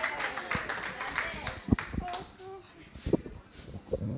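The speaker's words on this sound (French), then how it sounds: "On applaudit, je vous en prie." Scattered hand claps break out among a small audience at a certificate ceremony marking the end of an internship, sharp irregular slaps that come and go while voices, including a child's, talk over them.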